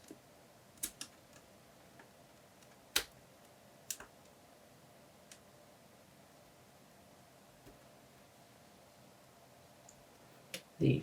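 Small cable connectors are pressed back into a MacBook Pro 13-inch A1502 logic board during a keyboard replacement, producing sparse faint clicks and ticks over near silence.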